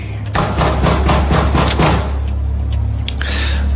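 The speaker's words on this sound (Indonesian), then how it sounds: "Suara ketukannya terdengar sangat keras." Heavy, rapid pounding on a door late at night, a quick run of loud thuds in the first half followed by a couple of isolated knocks, close and forceful over a low background hum.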